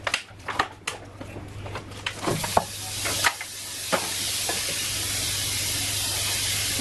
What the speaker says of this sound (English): So I'm going to cook the filling now